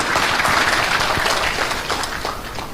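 Continuous dense applause from an audience at a public lecture by Rocky Gerung before prospective judges, steady and loud throughout without pauses.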